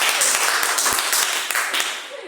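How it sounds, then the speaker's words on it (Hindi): A short burst of clapping from a student audience in a spoken English class, loud and dense with several sharper individual claps standing out. "एक बार आपकी जोरदार तालियों के साथ"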